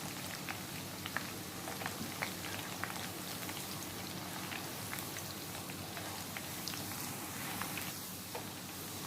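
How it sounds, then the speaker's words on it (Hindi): Carrots half-frying in hot oil over a high flame, a steady dense sizzle with scattered crackles and pops, fairly quiet and continuous with no voices. "हम हाई फ्लेम पर इसे फ्राई कर रहे हैं।"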